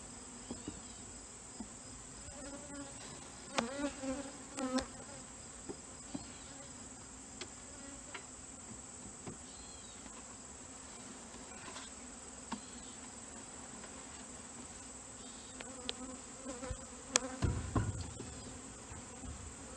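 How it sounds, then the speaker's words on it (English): Honeybees buzz steadily as two nucs are combined for winter, a continuous close hum with occasional knocks and handling clatter of frames and boxes. "There's no brood on it, so these bees are going in."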